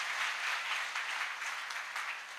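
Applause from a church congregation during a Swahili worship service, a steady wash of many hands clapping at moderate distance, fairly even throughout with no talk over it.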